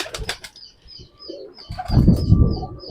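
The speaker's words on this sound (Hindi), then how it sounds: "ये रामपुरी कबूतर है।" A Rampuri pigeon close by, with a soft flutter of wings and low cooing rumbles, preceded by a few sharp taps; short and near, no talk.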